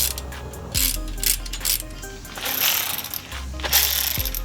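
A deep socket ratcheting down on a valve spring compressor on an F-Body engine, with close metallic clicking bursts and clanks repeated in short spurts.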